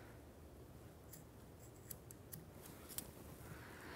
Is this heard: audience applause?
no